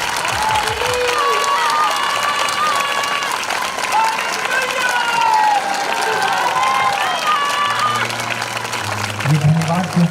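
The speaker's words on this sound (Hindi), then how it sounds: "फिर से जोरदार तालियों के साथ आनंद से" A church congregation claps loudly and steadily with crowd noise, sustained for the whole stretch, while a voice speaks over the applause.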